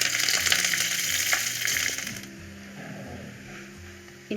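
Onions, dried red chillies and curry leaves fry in a hot pan with a loud, dense sizzle for about two seconds before it drops to a softer, steady crackle.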